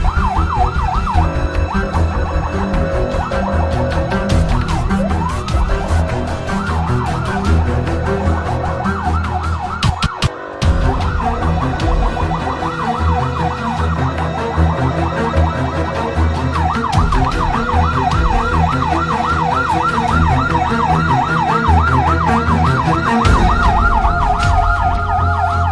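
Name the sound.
fire truck siren while rushing to a fire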